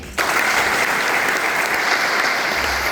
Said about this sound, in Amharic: በደንብ ለጌታ ክብርና ጭብጨባ